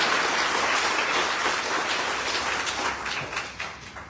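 An audience at a debt-relief team meeting applauds, a dense steady clapping that thins and fades toward the end, no speech on top.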